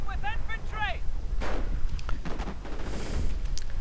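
Artillery fire in a war strategy video game: a few booming blasts land at intervals over a steady low rumble, with some brief chirping game sounds at the start.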